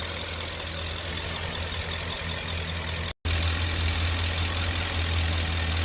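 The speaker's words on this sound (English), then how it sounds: "So I'm going to let the engine warm up and then adjust the coolant level." A Ford 4.6 V8 with an aftermarket intake manifold idles steadily while warming up, a constant close low rumble with a brief dropout partway through.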